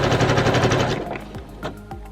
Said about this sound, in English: I just stretch it and then sew a bit, stretch again and sew again.